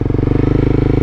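A motorcycle engine revs up before a downshift, a loud, close, rapid pulsing rumble that holds steady through the short burst, with no voices.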